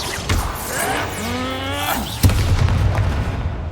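Confringo explosion spell in Hogwarts Legacy, a sudden thumping blast late on that leaves a rumbling tail, following earlier spell effects and tonal game sounds.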